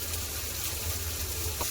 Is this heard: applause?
no